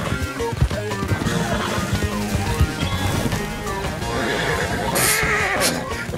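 A horse neighs in the video game Red Dead Online, heard amid dense game music and hoofbeat clatter, with busy sound effects throughout.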